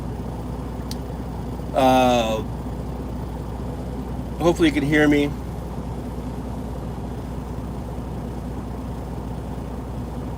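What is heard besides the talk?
car engine running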